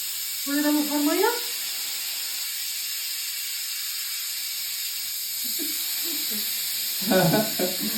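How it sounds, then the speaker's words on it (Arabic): Steam hisses steadily from a pressure cooker holding chicken and rice, a constant bright high-pitched jet running the whole time, with brief bursts of voices breaking in near the start and end. "كل ده بخار ميه."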